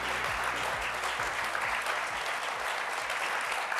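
An audience applauds chef José Andrés at a history lecture event, a steady dense wash of clapping from a large crowd with no talk over it.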